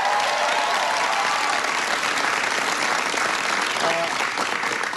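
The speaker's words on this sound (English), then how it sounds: "Give Bill a big round of applause." Loud, continuous applause from a large crowd at a political speech in Boston, a dense wash of clapping with faint voices mixed in.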